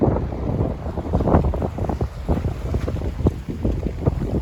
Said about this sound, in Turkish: Çok rüzgarlı bir hava var.